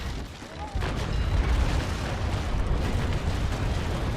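A cannon volley from a sailing frigate in the naval combat game Naval Action erupts after a quiet moment, then rolls on as a sustained, loud rumble of overlapping blasts.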